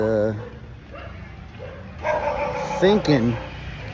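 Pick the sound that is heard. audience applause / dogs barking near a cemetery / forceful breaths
dogs barking near a cemetery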